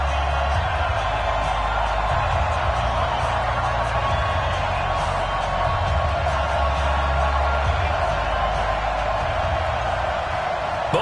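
Stadium crowd roaring steadily at an EA Sports NFL video game matchup between the San Francisco 49ers and Miami Dolphins, a dense continuous cheer with a low rumble throughout, under faint commentary.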